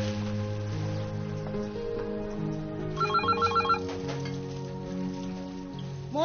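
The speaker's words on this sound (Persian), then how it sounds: "مژگان، اون تلفن رو جواب بده ببین کیه مادر." A telephone rings in a home with a short electronic trill burst partway through, heard against sustained background music at a low level, with no talk over it.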